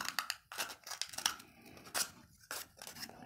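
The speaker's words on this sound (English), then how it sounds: "carefully take your scissors, and we're going to cut along the edge so that we cut a straight line." Scissors cutting a cardboard paper towel tube: close, crisp crunching snips in uneven bursts, about half a dozen cuts, with brief pauses between them.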